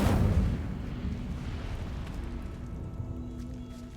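An Incendio fire spell cast in Hogwarts Legacy, a heavy whooshing burst of flame that erupts loudly at once, then lingers as a fading roar and rumble.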